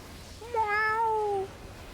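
A single cat gives one clear, drawn-out meow lasting about a second, close and distinct against a faint room hum, with no talking.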